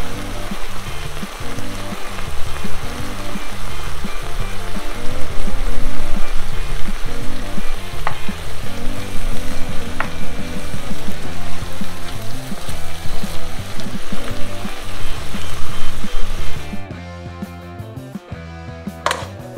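Stir fry of red pepper and a crumbled OXO cube sizzling steadily in a hot pan, a loud continuous fry with scraping stirs throughout, dropping away sharply near the end.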